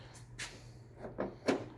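Car door latch worked open with a homemade bent coat-hanger tool in a shop, heard as a few short clicks and clunks spread over about two seconds against a low steady hum.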